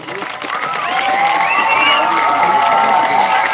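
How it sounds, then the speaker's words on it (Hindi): A crowd at a welcome ceremony for district and state medal winners and their coach cheers loudly with whoops and shouts over clapping, swelling into a sustained roar. "तालियां बजा करके"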